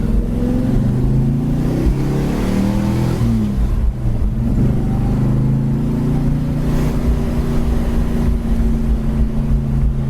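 A 1971 Plymouth Duster with a 318 V8 breathing through Magnaflow mufflers, a loud, deep, close exhaust burble that rises and falls with throttle blips before settling into a steady idle rumble.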